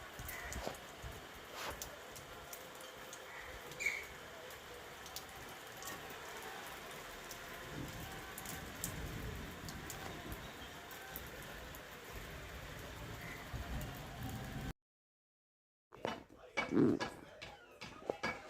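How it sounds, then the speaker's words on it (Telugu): Steady summer rain patters on surfaces, a soft continuous hiss with occasional louder drops, then a brief silence and some clattering. "వాన పడుతుంది"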